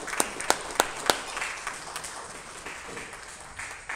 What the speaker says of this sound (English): let's just give a clap of unto the Lord